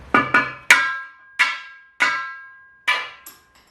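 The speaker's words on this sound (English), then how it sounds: "I'm going to put the flathead right up against the wheel weight like that, and I'm just going to hammer it out." Sharp metallic strikes ring out one after another, about seven hammer blows on a flathead screwdriver knocking a wheel weight off a steel rim at an uneven pace, each leaving a short clanging ring that fades before the next.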